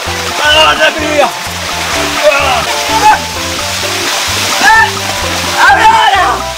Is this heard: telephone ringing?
no